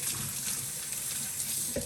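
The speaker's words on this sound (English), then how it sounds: "I like just washing my lettuce" Tap water runs steadily into a kitchen sink as lettuce is rinsed, a close, continuous splashing hiss that lasts the whole moment with no voices.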